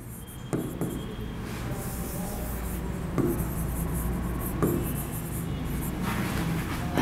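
A teacher writes by hand on a board or paper, giving soft continuous scratching strokes with a few sharper taps. The writing runs faintly under steady background noise with no speech.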